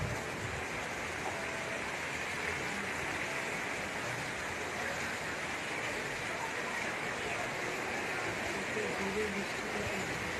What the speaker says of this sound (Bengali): তো তোমরা দেখতেই পেলে কত জোরে বৃষ্টিটা পড়ছে